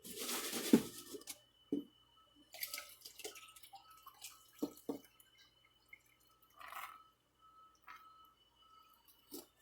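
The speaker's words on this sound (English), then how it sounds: "I'll put a little bit of water in here. We'll just take a real quick rinse these guys" Water splashes and drips while muddy sapphire gravel is rinsed in a container, scattered soft trickles, clinks and gritty rattles, fairly quiet with pauses, no voices.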